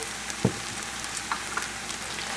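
Food frying in olive oil in a pan gives a steady, close sizzle with scattered soft pops and one brief louder knock near the start.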